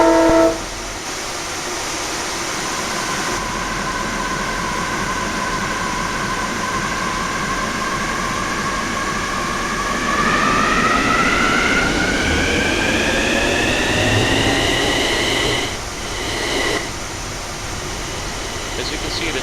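An AI train in Train Simulator 2015/16 pulls away with a steady mechanical drone and rising whine that climbs in pitch as it gathers speed, running continuously throughout.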